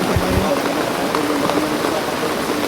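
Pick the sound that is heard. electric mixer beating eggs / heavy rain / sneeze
heavy rain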